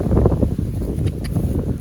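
Steady, dense low rumble of wind buffeting the microphone in a cucumber garden, continuous and fairly loud throughout with no voices.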